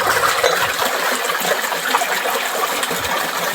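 Water gushes hard and steadily from a borewell pump on a farm, a loud, dense rushing and splashing that carries on without a break from start to finish.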